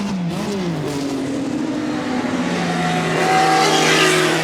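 Racing cars at full speed down the long Lavant straight at Goodwood's Members' Meeting, a Camaro chasing a Rover, their engines a loud, sustained roar with rising pitch as they accelerate past, no talk over it.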